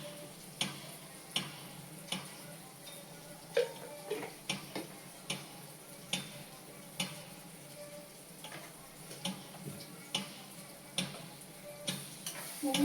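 A spoon stirs a spice mixture with garam masala and cumin powder in a pan, producing a regular series of light ticking scrapes over a faint sizzle, close and quiet, with no speech.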